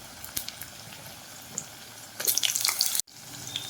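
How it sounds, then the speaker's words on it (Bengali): Potato and pointed gourd pieces fry in hot oil, with faint crackles that swell into a brief bright sizzle burst, cut off sharply, then a quieter hiss resumes. "এবার টুকরো করে রাখা আলু পটল সমস্ত কিছু আমি ভেজে নেব"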